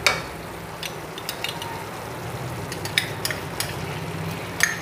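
Spice paste with added yogurt sizzles steadily in a pan while a spoon stirs and clinks now and then, a close, constant fry with light scraping taps.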